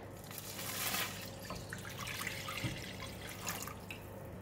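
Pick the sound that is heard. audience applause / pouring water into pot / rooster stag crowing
pouring water into pot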